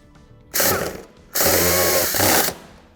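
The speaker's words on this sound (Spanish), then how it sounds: "le vamos a usar un tornillo autorroscante para colocarlo directamente a carrocería" A power drill drives a self-tapping screw straight into the body of a 2008-2013 Renault Kangoo II while a tow hitch is fitted, giving two close whirring bursts with a short pause between them.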